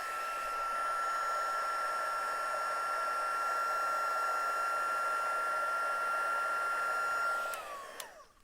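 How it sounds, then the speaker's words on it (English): Heat tool warming gilding leaf on a stamped card, a steady close blowing whir with a high electric whine, held for about seven seconds before switching off and winding down. "we're going to heat this up again"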